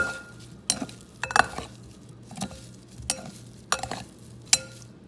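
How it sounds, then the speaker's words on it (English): Corn appetizers are stirred with flaming hot Cheeto puffs, producing a series of crisp scraping, rattling strokes at an uneven rhythm. A faint sizzle sits underneath, close and moderately loud. "I'm ready to put on my flaming hot Cheeto puffs. Mix that all around really, really good."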